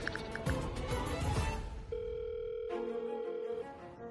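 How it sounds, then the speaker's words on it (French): Telephone receiver audio from a landline call, with a steady electronic dial tone that starts partway through after some muffled handling noise, then shifts pitch and cuts off near the end. "Donne-moi le téléphone. Je vais l'appeler tout de suite."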